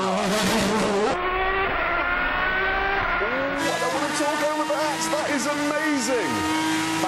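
Aston Martin DBR9 race car engine screaming under full acceleration out of a slow corner, loud and close, with rising revs and sharp upshifts, an onboard commentator talking over it.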